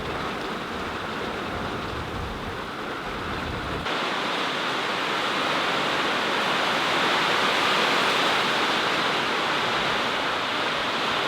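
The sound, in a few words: heavy rain on tin garage roof during thunderstorm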